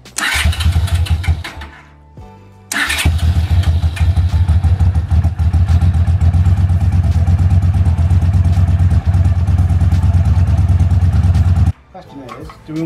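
A trike engine, just started for the first time, runs at a loud, steady idle with a throbbing, mechanical chug close by; a brief dip near the start, then continuous running that cuts off near the end while people talk.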